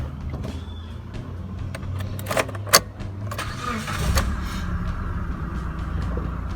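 A 2010–2016 Mitsubishi TR4 sits idling after being started, a low steady engine rumble with a few sharp clicks and a brief mechanical thump partway through, heard up close with no speech.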